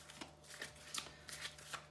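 Tarot de Marseille cards are shuffled and handled up close, giving soft, quick papery riffles and flicks that come in a loose, quiet rhythm.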